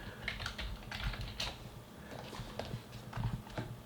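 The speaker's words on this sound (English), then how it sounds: "I can't even bloody type." Fingers tap quickly on a computer keyboard nearby, irregular bursts of soft clicking keystrokes with short pauses between.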